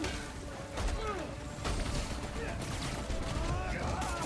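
Tank firing in the video game Marvel's Spider-Man: Miles Morales, a steady barrage of heavy blasts and crashing impacts over continuous battle noise, loud and close.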